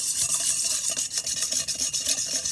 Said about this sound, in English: And then we're going to whisk this